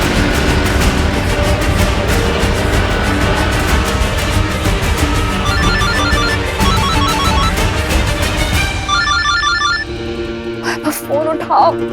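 A phone ringtone chimes in repeated bursts amid a busy, loud mix of music and voices, then cuts off, leaving quieter background sounds.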